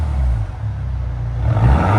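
A 2024 BMW X1 M35i with a 2.0L turbo engine and its muffler deleted revs close by, giving a steady low exhaust drone that rises louder toward the end, with no talking.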